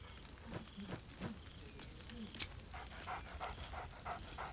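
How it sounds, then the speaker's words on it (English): A dog in Baldur's Gate 3 pants and gives soft whimpering sounds, faint and close, with a few brief yips between quiet breaths. "Scratch barks merrily in something like agreement."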